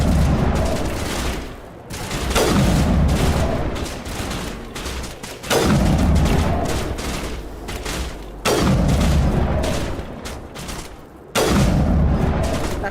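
Loud gunfire in the video game Mass Effect, aimed at snipers: heavy bursts of shooting that erupt about every three seconds, each blast ringing and decaying before the next volley hits.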